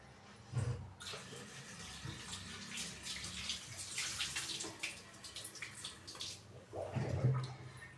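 Grapes being washed under a running kitchen tap, a steady broadband splash of flowing water with a few louder bursts as the fruit is moved about, fairly close, no talking.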